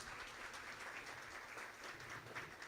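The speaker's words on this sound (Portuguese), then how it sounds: "Uma salva de palmas," Applause from an audience welcoming a doctor called to the front to be introduced, a steady even patter of clapping that stays fairly faint and distant throughout.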